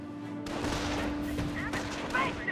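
Gunfire in Company of Heroes, a World War II game set in the Normandy invasion at Carentan, comes as dense, overlapping battle noise that sounds loud and continuous, mixed with shouted voices.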